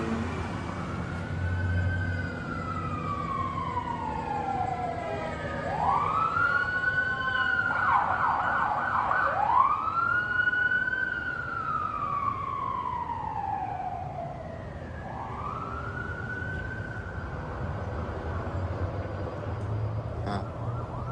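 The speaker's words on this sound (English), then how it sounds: "Sirens, huh?" Wailing emergency vehicle siren sweeping up and down through repeated rising and falling cycles, loud and fairly close, over steady background traffic noise, with no talking.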